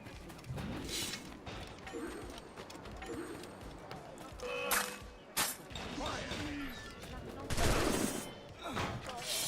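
Shotgun fire in a video game: a few sharp, loud blasts spaced seconds apart, standing out against a busy, noisy game backdrop.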